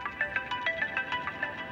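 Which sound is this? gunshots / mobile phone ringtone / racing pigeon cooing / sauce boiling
mobile phone ringtone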